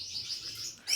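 Gouldian finches in breeding cages chirp faintly, a thin steady high twittering that brightens into a sharper call at the end, with no talk.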